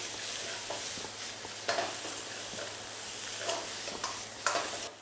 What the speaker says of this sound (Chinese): 先把豆瓣酱、甜面酱一样，也是把它煸香哈